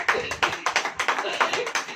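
Audience clapping at a Hindi sermon gathering: brisk, fairly loud, irregular hand claps repeating through a couple of seconds with a murmur of voices underneath.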